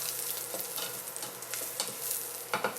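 Garlic fries in about a tablespoon of hot oil in a pan, a constant loud sizzle close by, with a utensil stirring and scraping in quick, irregular strokes over it.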